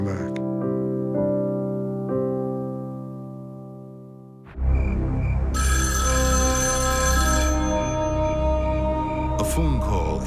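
A telephone rings in the middle of the night, its bell-like tones repeating several times in a steady pattern before a louder, dense burst of sound takes over, with a voice speaking.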